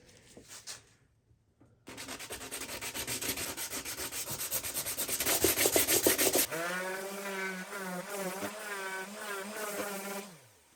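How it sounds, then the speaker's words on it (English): Sanding on stained wood of IKEA Flisat shelves, a steady loud abrasive rubbing that runs for several seconds and then shifts into a rougher, rhythmic, buzzing stroke pattern toward the end. "Let's see what happens if we go ahead and try sand them."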